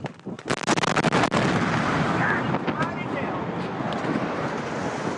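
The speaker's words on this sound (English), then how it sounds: "The explosion had the force of a small earthquake." A massive explosion at the West Fertilizer Company plant after a fire, heard as a burst of sharp cracking blasts followed by a long, loud roaring rumble that fills the whole clip.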